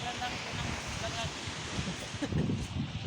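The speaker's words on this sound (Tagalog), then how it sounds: "Lakas po ng hangin kasi dito eh." Strong wind sweeping across an outdoor spot where sacks of produce are stacked, a steady broadband rush with gusts swelling louder near the end, with someone talking over it.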